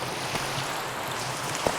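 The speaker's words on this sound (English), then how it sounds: "this rain is loud" Steady rain in the Minecraft video game, falling as a constant broadband hiss that stays loud and even throughout with no talk over it, plus one faint soft tap near the end.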